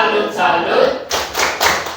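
Students in a classroom clap together in a rhythmic "tepuk salut" cheer, several sharp bursts of claps in a patterned beat after a stretch of quieter sound.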